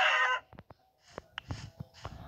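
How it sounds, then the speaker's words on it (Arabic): A Minecraft chicken clucks in a short loud burst, followed by several quick, clipped clucking sounds spaced unevenly over a couple of seconds. "دجاجة"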